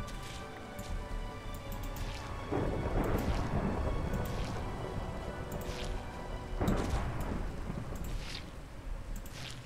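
Thunder rolls during a thunderstorm over steady rain, with two heavy rumbling crashes a few seconds apart rising out of the constant downpour.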